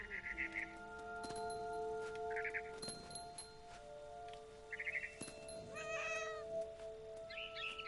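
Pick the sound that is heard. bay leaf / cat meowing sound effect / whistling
cat meowing sound effect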